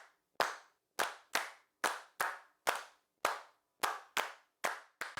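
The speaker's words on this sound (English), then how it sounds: "We just hear the claps by itself." One person's hand claps recorded alone for a song's clap track, about ten sharp, close claps at a steady, slightly uneven rhythm, each with a short decay and silence between.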